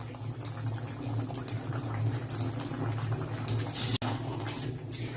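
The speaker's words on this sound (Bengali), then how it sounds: "আরো 1 মিনিট এখানে ফুটতে দেবো" Cornflour-thickened gravy for chili cauliflower bubbling in a pan, a continuous close, low, gurgling boil with soft popping bubbles and one brief break near the end, no voices.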